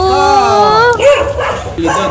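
A dog gives drawn-out whining yelps and short barks, close by, with voices mixed in.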